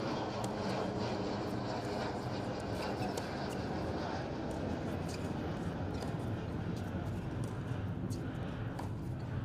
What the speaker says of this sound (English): As you hear the planes overhead